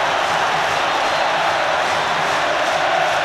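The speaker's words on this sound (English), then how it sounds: "What a moment for Wigan and the crowd here in absolute ecstasy" A football stadium crowd roars steadily after a Wigan Athletic goal against Manchester United, a dense, sustained wash of cheering that stays loud and even throughout.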